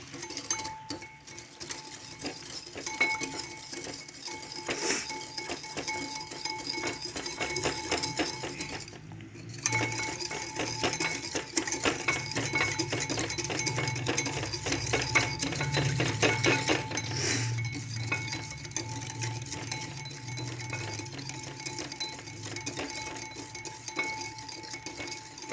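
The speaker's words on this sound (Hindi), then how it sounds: "साथ में डाल रही हूँ 1 चम्मच चीनी। इसको करूँगी अच्छे से मिक्स।" A spoon stirs milk and sugar in a bowl, with light repeated clinks and scrapes against the sides running steadily and close, fairly quiet with a brief pause midway.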